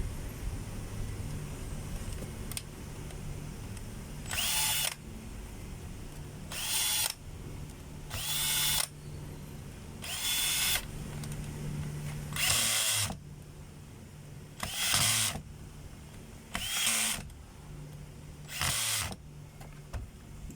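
A power driver runs screws into a DeWalt DW810 4-inch grinder in about eight short, sharp whirring bursts, separated by quieter pauses with a low background hum.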